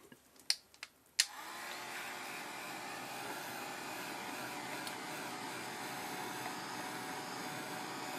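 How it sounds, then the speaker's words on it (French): A hair dryer blows on watercolour paint, starting after a few short clicks and then holding a steady, even whooshing drone close by, with no talking over it. "moi, j'ai un sèche-cheveux, mais il faut qu'il sèche sans le bouger"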